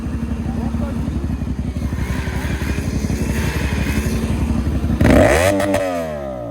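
A motorcycle engine idles loud and close with a rapid, chugging pulse, then sharply revs up near the end with a rising whine before settling back; people talk alongside it.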